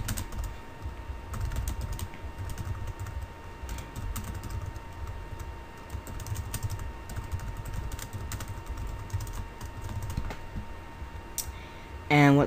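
Computer keyboard typed continuously up close while a command is entered for a Game Maker platformer, with irregular rapid key clicks and faint background hum.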